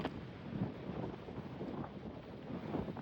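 Wind buffeting a microphone outdoors, a continuous low rumbling roar with gusty swells, close and fairly quiet, without talking.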